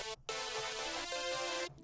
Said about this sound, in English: just get like a super basic super saw noise